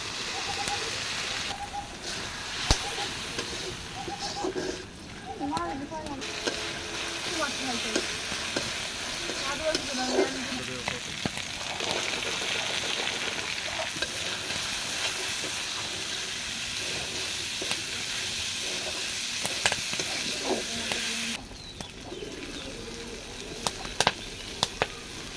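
Chickpeas frying in a pan with a splash of water added, giving a steady, close hiss and sizzle with scattered stirring clatter throughout, easing off briefly near the end.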